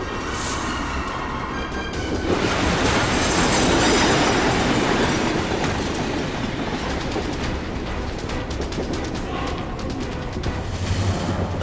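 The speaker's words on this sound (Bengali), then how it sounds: "ট্রেনটারও জোরে চালাও।" A fast-moving train rumbles loudly and steadily, with rail clatter and metallic squeal running throughout, dense broadband noise swelling slightly near the middle, without a break.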